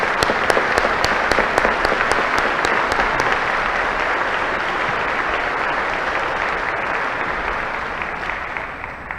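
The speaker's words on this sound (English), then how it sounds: "Give a round of applause." A large graduation ceremony audience gives sustained applause, a dense steady wash of many hands clapping at a moderate distance, with a few sharper nearby claps at first and no talking.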